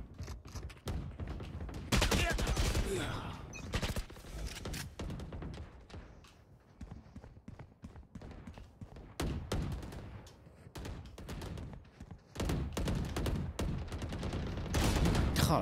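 Rapid bursts of gunfire from the tactical shooter Valorant crackle in dense volleys, some sustained automatic sprays, others short clusters, loud and close with brief lulls between exchanges.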